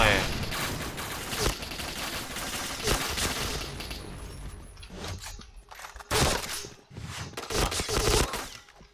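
HK-416 assault rifle fire in the shooting game Point Blank, with dense bursts of rapid gunshots and shorter volleys separated by brief pauses, loud and close, with a faint voice underneath.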